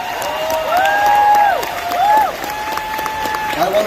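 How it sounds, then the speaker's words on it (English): Audience applause and cheering at a convention stage show during an anime convention awards segment, with a crowd clapping while bright sustained tones of stage music or feedback sweep over it, swelling twice. "Give a round of applause."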